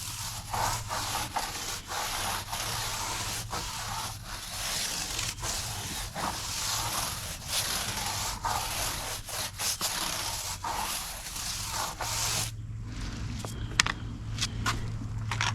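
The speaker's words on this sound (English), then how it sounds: "I'm going to use my standard bristle brush, and I'm going to agitate my tires" Stiff bristle brush scrubbing 4x4 tires, a continuous close scratchy rubbing with quick rhythmic strokes over a low steady hum, lasting throughout.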